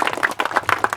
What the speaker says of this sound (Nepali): हामी एकचोटि ताली बजाइदिउँ त सबैजनाले